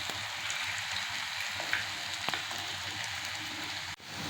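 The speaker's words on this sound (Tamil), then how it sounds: "இந்த ரவையை பாலில் ஊற வச்சுருந்தோம்ல, இதை வந்து இதை ரோஸ்ட் பண்ணி எடுத்துக்கிடுவோம்." Milk-soaked semolina roasting in a hot pan gives a steady, close sizzle with faint crackles and a few soft stirring scrapes, ending in a brief knock; no one speaks.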